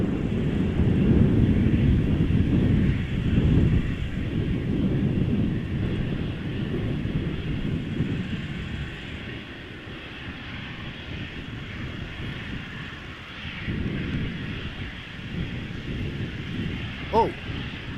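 A Boeing 777-200 airliner taxiing at Amsterdam Schiphol Airport gives a steady, fairly loud low engine rumble throughout, with a brief higher whine near the end.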